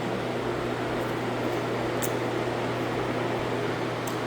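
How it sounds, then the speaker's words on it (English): Electric fans running in doorways to dry door trim in a flood-damaged house, a steady whirring hum with a constant low-pitched drone and airy rush, with a few faint clicks along the way. "I'm going to run these fans on the doorways so the trim can dry out"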